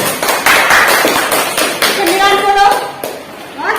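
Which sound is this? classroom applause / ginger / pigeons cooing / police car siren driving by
classroom applause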